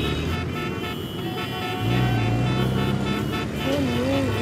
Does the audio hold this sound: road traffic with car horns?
yes